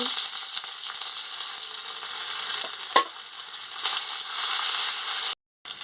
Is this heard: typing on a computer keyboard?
no